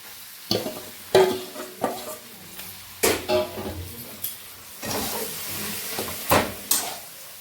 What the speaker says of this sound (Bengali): ভালোভাবে আলুটাকে ভেজে নিতে হবে।